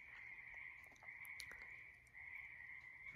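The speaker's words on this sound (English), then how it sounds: "Those frogs are pretty cool." Frogs croak at night in a continuous, trilling chorus that holds a steady pitch. The sound is faint and distant, with a few scattered clicks and chirps over it.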